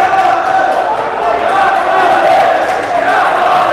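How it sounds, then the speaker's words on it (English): A crowd chants at a school varsity basketball game, a loud, continuous roar of many voices with a steady, sing-song tone that fills the whole stretch. "Look at the crowd chanting Shaare."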